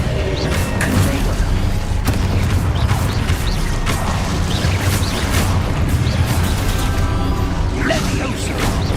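Spell-casting explosions from the Hogwarts Legacy video game, with repeated booming blasts, crashes and whooshes layered over dense, continuous game combat noise throughout.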